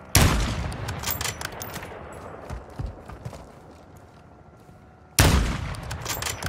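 Gunfire in Call of Duty Modern Warfare II DMZ mode: a loud opening burst, a few sharp scattered shots over a quieter stretch, then another loud burst near the end, with no talk.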